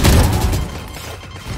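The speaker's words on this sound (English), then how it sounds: "Grenade out" A KAY/O grenade explodes in Valorant: a loud, deep boom that hits at once and then fades into a rumbling tail, with a slight renewed swell at the very end.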